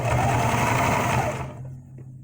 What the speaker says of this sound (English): Now back up your stitch and go forward.